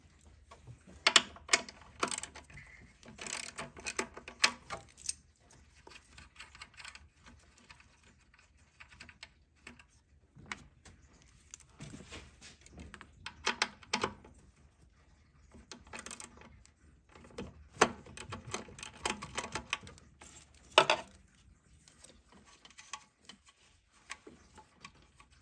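Ratchet loosening and removing two 10mm nuts near a car's throttle body, heard as close bursts of rapid clicking and ticking separated by short pauses, with no talking.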